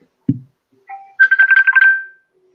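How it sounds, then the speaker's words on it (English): A telephone rings with a brief electronic tone and then a rapid warbling trill that lasts under a second, loud and close after a soft knock. "That'll be the phone, Reg."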